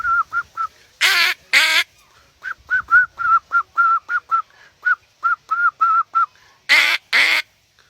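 A hunter whistles an imitation of a bulbul's call: a quick run of short, clear, evenly spaced whistle notes, broken by a few louder, breathier bursts, close and alone against silence.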